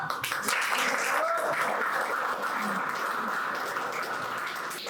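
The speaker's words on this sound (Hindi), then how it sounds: "तो फिर तालियां बजाओ।" An audience claps steadily at a Republic Day celebration at NDDA, a dense, even wash of hands that holds at one level for the whole stretch, with a faint whistle or cheer rising briefly near the middle.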